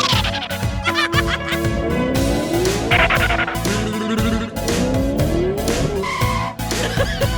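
A toy race car speeds and skids through a race, with loud continuous engine whine and rising tire squeals layered with music-like tones, close and steady throughout.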